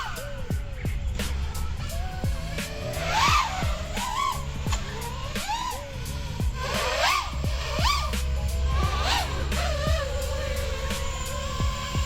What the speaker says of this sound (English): So I'll have one more vertical throttle up.